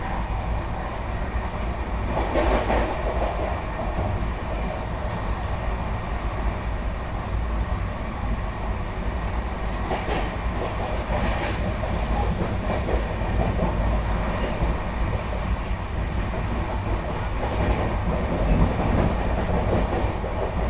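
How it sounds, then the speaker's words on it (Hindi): The Tejas Rajdhani Express races through Vapi station without stopping at about 130 km/h, heard from inside the coach as a steady loud rumble with continuous wheel clatter and rail noise throughout. "Mumbai Rajdhani skipping Vapi at flat 130"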